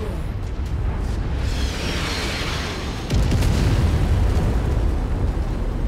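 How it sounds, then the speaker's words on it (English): Artillery explosions pounding around a mech in MechWarrior 5, deep rumbling blasts with a heavy impact midway that raises a loud sustained roar. "we're getting hammered by the artillery"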